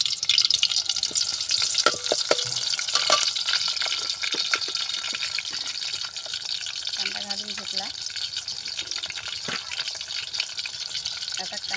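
Onion fries in a pan over a wood-fired village stove, a soft continuous crackle and hiss with a few scattered clicks and knocks.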